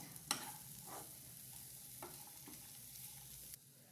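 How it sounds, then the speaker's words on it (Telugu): Boiled chana dal being stirred in a pan, with a faint sizzle and a few soft scrapes and taps of the spoon, quiet and close. "దాంట్లో ముందుగా ఉడకబెట్టుకున్న శనగపప్పుని యాడ్ చేద్దాం. బాగా తిప్పుకోవాలి."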